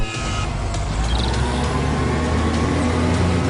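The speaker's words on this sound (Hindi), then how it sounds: "गुरजीत ने अपना ट्रक निकाल लिया और पप्पू ट्रक के अंदर बैठ गया।" A truck drives along a road, its engine rumbling steadily and loudly with continuous road noise and no voices.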